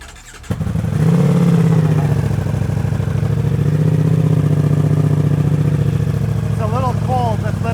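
A cold Ducati Diavel V4 with a Termignoni Dragster exhaust fires up for the first time, bursting suddenly into a loud, deep, steady idle rumble, with a voice heard briefly near the end.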